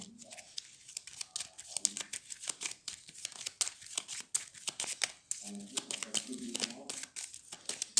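Playing cards are handled and shuffled close by in a series of quick, crisp riffles and snaps, with short pauses between bursts and a voice talking now and then.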